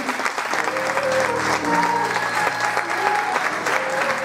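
A crowd at an end-of-school-year festival claps for the young dancers, a full sustained round of applause with faint cheering and voices mixed in.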